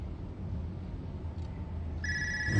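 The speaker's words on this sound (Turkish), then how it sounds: "Abla Allah aşkına aç şu telefonu." A telephone begins ringing near the end, a steady electronic ring that starts abruptly after a stretch of low background noise and no speech.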